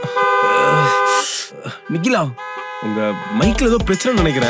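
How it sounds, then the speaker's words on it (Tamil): Car horns honk amid heavy city traffic, a sustained tonal blare at the start and shorter toots later, mixed with people talking over them. "அது இங்க ரொம்ப ஹெவி டிராஃபிக் சார்"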